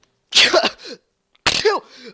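Two sharp, explosive sneezes close to the listener, each a sudden burst trailing off into a breathy wheeze, separated by a short silence.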